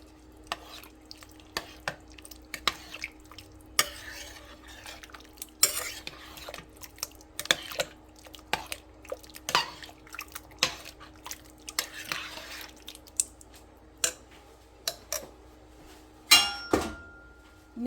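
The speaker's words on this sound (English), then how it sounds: "Now I'm going to give everything a good stir." A spoon scrapes and knocks around a pot of chili as it gets a good stir, with irregular clinks and soft scraping strokes at close range and quiet pauses between them.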